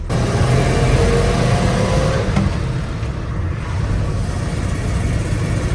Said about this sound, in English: Motor runs nice and smooth